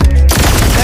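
A single gunshot cracks loudly and very close, followed by a short rumbling tail, all within about a second.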